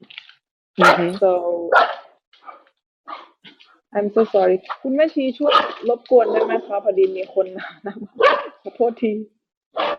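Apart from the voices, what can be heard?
dogs barking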